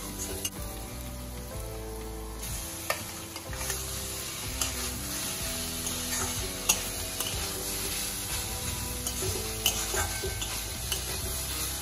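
Paneer sizzles in a pan while a utensil stirs and scrapes, with occasional sharp taps against the metal, close and steady.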